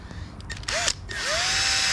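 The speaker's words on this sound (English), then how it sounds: "Set up with the drill and the pad," A power drill fitted with a 500 grit sanding pad whirs up on a car headlight, starting with short bursts and then settling into a steady, close, sustained whine.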